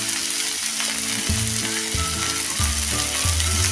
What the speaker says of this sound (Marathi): चांगला आता परतून घेऊया